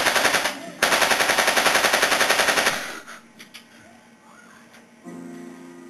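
German machine gun fire in a World War One trench battle: two long, rapid bursts of loud, evenly spaced shots, then a pause filled with scattered distant cracks and a low rumble before a droning tone sets in.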